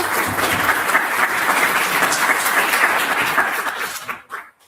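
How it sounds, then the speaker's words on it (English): Sustained audience applause at an ecological restoration conference, a dense steady clapping that holds loud for about four seconds and then tapers off into a few scattered claps. "Please, again, maybe a small applause for Nynke."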